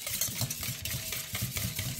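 Hand stirring of a yogurt starter slurry made for Lactobacillus reuteri yogurt: a spoon scrapes and clinks against the container in quick, uneven strokes, close up and alone.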